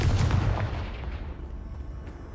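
The Confringo spell blast in the video game Hogwarts Legacy, a heavy booming explosion with a punchy low-end rumble that decays steadily over about two seconds, heard alone without talk.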